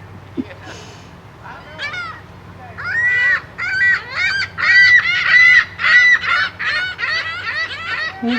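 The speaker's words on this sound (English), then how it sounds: "I got 4 seagulls now." Several seagulls on Michigan's Northern Peninsula call loudly and close by while being fed, with repeated honking, overlapping cries that build into a dense chorus after the first few seconds, and a brief bump near the start.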